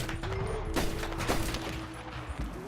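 Gunfire in the video game Red Dead Redemption 2, a few sharp shots cracking out over a steady background rumble, spaced irregularly across a couple of seconds.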